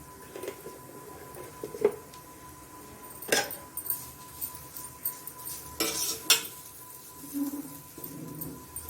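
Potatoes fried on high heat in AMC cookware, quiet scrapes and metallic clinks of a spoon stirring against the pan at irregular intervals over a faint sizzle, with no voices.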